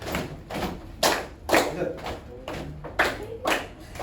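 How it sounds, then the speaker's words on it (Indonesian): A classroom of pupils performs a patterned concentration clap, bursts of group clapping falling in a rhythmic sequence with short pauses between, close and fairly loud. "Tepuk konsentrasi."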